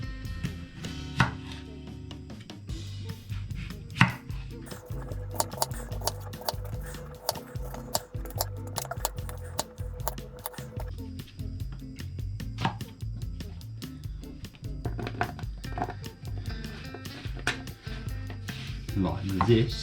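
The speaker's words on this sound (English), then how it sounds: "So I'm just going to cut these potatoes up." Knife chopping potatoes on a cutting board for a stuffed chicken dinner, a steady run of close, crisp cuts through the whole stretch, with a low hum beneath.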